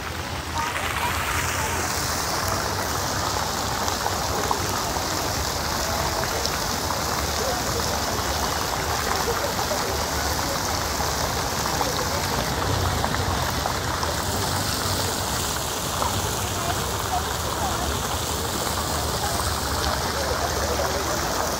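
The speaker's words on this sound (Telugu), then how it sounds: "వాటర్ ఫౌంటైన్ కూడా ఉంది ఎదురుగా." Steady rushing splash of an outdoor water fountain in front of Phoenix Mall of Asia in Bengaluru, continuous broadband hiss throughout with faint voices mixed underneath.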